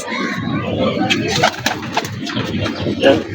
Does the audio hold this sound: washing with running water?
no